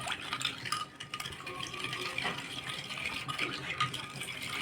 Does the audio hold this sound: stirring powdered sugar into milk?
yes